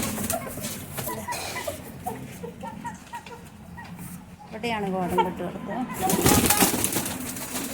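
Pigeons brooding eggs at a home coop coo and flutter softly nearby while someone talks over them, with a brief burst of wingbeats near the end.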